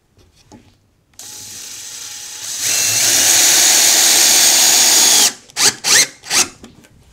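A power driver sinks screws into wood for a hedgehog house: a steady, loud mechanical whir lasting several seconds, then three sharp ratcheting bursts as the screw seats. The sound is close and has no talk.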